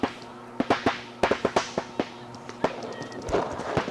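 Paintball markers fire during an outdoor paintball game: a string of sharp pops in loose, irregular bursts, some close and some farther away.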